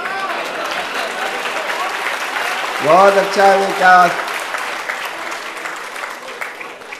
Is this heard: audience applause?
yes